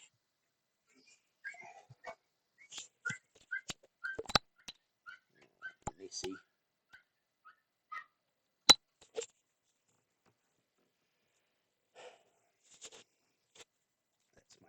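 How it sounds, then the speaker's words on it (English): A dog yaps outdoors in short, scattered bursts, fairly faint and distant, with a brief spoken remark and some light clicks among the barks. "That's my dog yapping outside."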